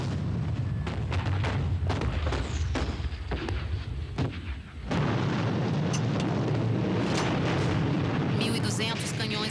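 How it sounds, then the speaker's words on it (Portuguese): Repeated heavy booms and blasts of German artillery fire on the French front thud in an irregular barrage, then a rumbling roar continues, with a voice speaking over it. "Canhões alemães bombardearam uma área de 11 quilômetros da frente francesa."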